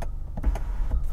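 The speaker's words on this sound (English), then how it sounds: "So let's close the sunroof" The motorised sunroof of a Mahindra XUV700 AX7 closes, a low electric motor whir inside the cabin with a few soft clicks and thumps, close and moderately loud, with no talking.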